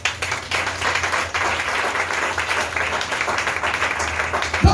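A Pentecost church congregation claps and cheers for Jesus, a loud, steady wash of applause across the whole room that keeps going to the end.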